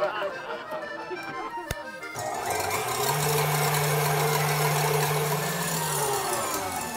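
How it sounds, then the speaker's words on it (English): An electric hand mixer starts up and whirs steadily while beating three egg whites in a bowl until frothy, a close motor hum with beaters rattling, and voices talk over it. "And we're going to beat these until they're frothy."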